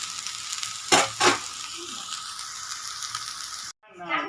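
Vegetarian chow mein stir-fried in a pan on a home stove, a steady sizzle broken by a couple of loud scraping stirs, then a sudden cut to a quieter sizzle.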